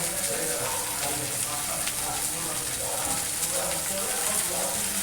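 Chopped vegetables fry in a pan with a steady, dense sizzle throughout, close and continuous with no pauses.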